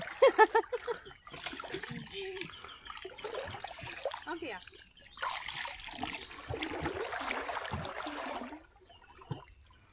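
Flowing water in a village irrigation channel splashes and gurgles nearby in uneven bursts, with people talking over it.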